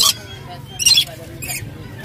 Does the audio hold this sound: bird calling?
yes